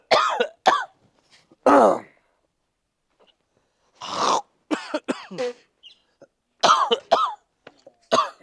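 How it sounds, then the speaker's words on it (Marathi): Several villagers cough and clear their throats in scattered, close bursts: harsh hacking coughs with short quiet gaps between them, some coughs in quick double or triple runs. "जिथं जाऊ तिथं खोकत येतात लोक गावात नुसते"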